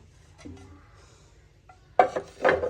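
Handmade clay plates from a Boishakhi fair being handled, giving a soft knock followed by a couple of brighter clinks as they touch, close and fairly quiet in a still room.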